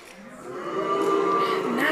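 Several voices imitate a cow's moo together in a long, rising and swelling call, fairly loud and close, with harmonic tones held for nearly two seconds.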